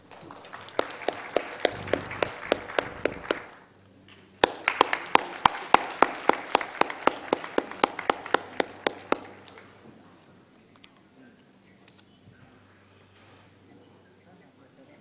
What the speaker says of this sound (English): big rounds of applause